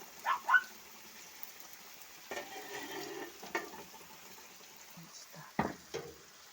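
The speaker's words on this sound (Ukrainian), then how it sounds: "І знову в каструлю налила олії і висипаю цибульку сюди." Soft frying sizzle from onions in oil in a pot, with scattered stirring scrapes and a few brief clatters standing out above the steady hiss.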